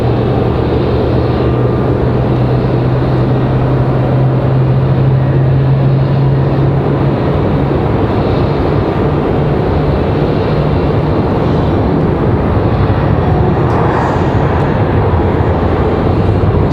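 Delta airliner at Raleigh-Durham airport, a steady, loud broadband engine rumble with a low drone, continuous for the whole stretch with no speech.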